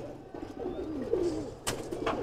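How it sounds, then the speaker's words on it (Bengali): Purple-necked pigeons coo in soft, low rolling phrases, close by and fairly quiet, with a brief rustle near the end. "আর কবুতরটা কিন্তু বেগুনি গলা প্যাটার্নের কবুতর।"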